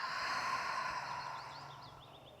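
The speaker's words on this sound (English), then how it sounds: "Take a full breath in. Open, release" A slow, deep breath drawn in and released at the close of a gentle flow session, a soft airy sigh that fades gradually, heard alone with no talking.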